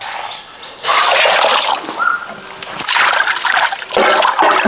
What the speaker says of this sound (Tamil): மஞ்சத்தூள் போட்டு மீனை கழுவி எடுத்துக்கலாம்